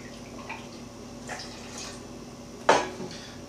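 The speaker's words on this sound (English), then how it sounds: "We're just going to put this cubed up meat into a pot and just enough water to cover." Cubed pork meat and water going into a cooking pot: a few soft clinks and light splashes, then a sharper clatter against the pot, close and quiet in a kitchen.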